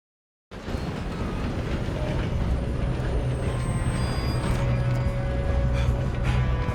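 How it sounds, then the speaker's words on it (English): A train rolls steadily along the tracks in the Red Dead Redemption 2 video game, a continuous rumbling clatter with a low drone that starts abruptly and carries on evenly throughout. "stop this train"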